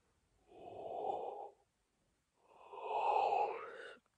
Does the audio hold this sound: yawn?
yes